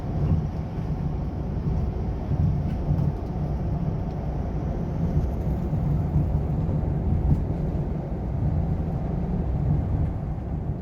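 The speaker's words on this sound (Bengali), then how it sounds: "আর এটি গ্রিন লাইনের কেবিন নয়েজ" Continuous low rumble of cabin noise inside a Green Line Scania double-decker bus, steady and fairly quiet, with no voices.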